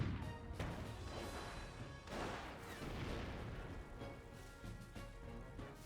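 Gunfire and artillery in the Company of Heroes real-time strategy game, a dense, continuous wash of distant shots, booms and crashes layered together at low level, with no single blast standing out.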